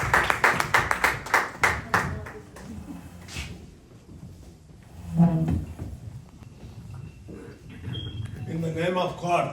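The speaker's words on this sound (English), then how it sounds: "Please give him big rounds of applause," A small audience at a Brooklyn community gathering gives a burst of rhythmic clapping for a visiting speaker, lasting about three seconds before giving way to talking and room noise.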